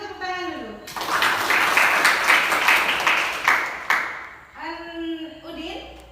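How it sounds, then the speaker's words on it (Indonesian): A short burst of clapping from a group, a few seconds of applause framed by talking before and after. "Kita tepuk tangan dulu."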